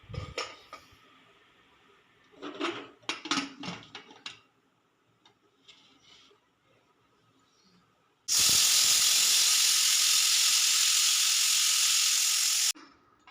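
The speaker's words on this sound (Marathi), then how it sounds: "कुकरच्या दोन तीन शिट्ट्या करून घेऊयात" A kitchen pressure cooker holding a ball of dough lets out one loud, steady whistle of escaping steam lasting about four seconds, preceded by scattered clinks of pots and utensils.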